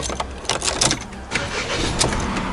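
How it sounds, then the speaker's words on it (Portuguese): A Ford Ka automatic rental car engine starts up in a steady wash of close engine noise that settles toward an idle, with no one talking. "carro em funcionamento"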